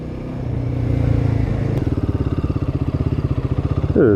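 A Royal Enfield Himalayan 450 motorcycle engine idles with a low steady rumble, then settles into a rapid, even thumping pulse close by, ending with a brief rise in revs.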